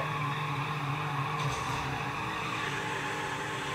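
A car doing a burnout in the Midnight Club LA racing game, with a steady engine roar and a faint tire-skid texture running continuously at an even level, with no talking.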